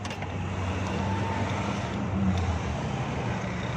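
A Suzuki Bolan Euro engine misfiring, with a steady, loud, uneven low rumble running throughout at close range, and no talk over it.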